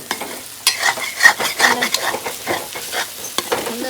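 Beef curry masala with garam masala stirred in a pan of hot coconut oil, a close, steady sizzle with frequent scraping spoon strokes throughout.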